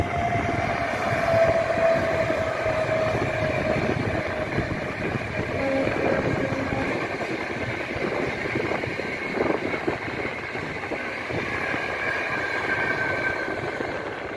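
A train runs along a line through low-lying village paddy fields near a pond, heard as a fairly faint, steady rumble from some distance that stays even throughout.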